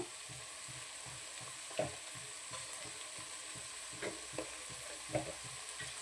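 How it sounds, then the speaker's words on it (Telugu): Turmeric and ginger are stirred in a cooking pan for a village-style country chicken curry, with a steady low sizzle and several distinct scrapes and clinks of a spoon against the pan, close by and with no talking. "రెండు బాగా మిక్స్ అయ్యే వరకు అయితే కలుపుకోవాలి"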